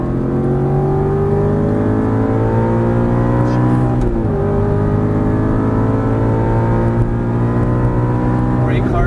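An Aston Martin V8 Vantage GT race car accelerates hard at full throttle out of a corner on a racetrack, its engine note loud and close as the revs climb steadily, dipping briefly at a gear change before rising again.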